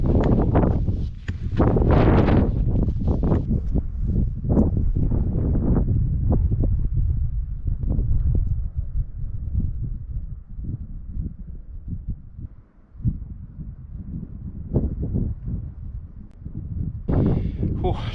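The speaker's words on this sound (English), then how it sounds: "But that wind is a little chilly." Chilly wind sweeping across an autumn Lake District fell near the summit buffets the microphone with a loud, low rumble that persists throughout, surging and easing in gusts.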